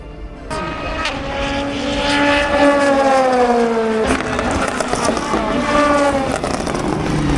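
Le Mans prototype and GT race cars, including Porsches and a Cadillac, thunder past at Le Mans, a loud sustained engine roar that swells and shifts pitch as the cars go by at close range.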